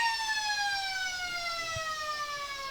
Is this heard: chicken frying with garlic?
no